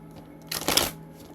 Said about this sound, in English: I'm gonna shuffle 3 more times.